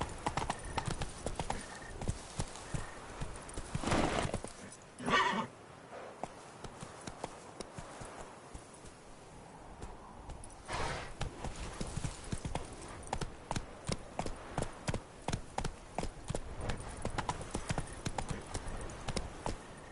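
Roach the horse galloping in The Witcher 3, with rapid rhythmic hoofbeats pounding close and loud nearly throughout, a few heavier thumps early and a short quieter gap before the gallop resumes.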